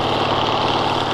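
The engine of a restored Allis Chalmers 440 tractor pulls a ripper through a field, a loud, close, steady chugging rumble with dense low pulsing and no talk over it.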